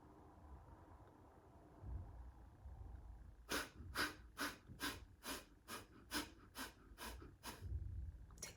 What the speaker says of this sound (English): 10 fire breaths.